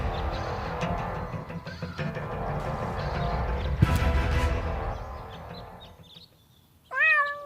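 A cartoon cat in the adventure game Deponia lets out a short, clear meow near the end, following several seconds of busy, noisy game sound.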